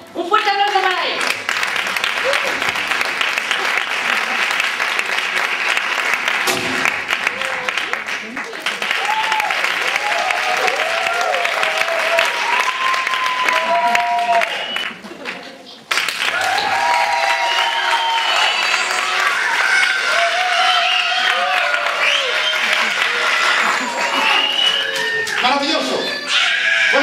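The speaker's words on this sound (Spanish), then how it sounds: "¡Un fuerte aplauso para él!" Loud, sustained audience applause at a children's storytelling festival for a Sevillian performer, with scattered shouts and cheers over the clapping, a brief dip midway before it swells again.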